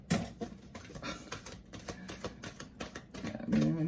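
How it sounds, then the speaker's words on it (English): A deck of tarot cards is shuffled close up, giving a rapid run of crisp riffling clicks and flutters in uneven bursts, fairly quiet and with no talking. "Okay, one more shuffle."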